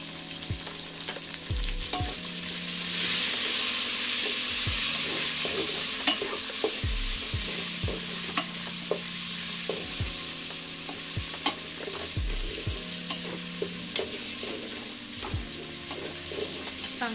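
Chopped tomato is stirred into onion and ginger-garlic paste frying in a pan, with a continuous sizzle and regular clinking, scraping spoon strokes against the pan throughout, and no voices.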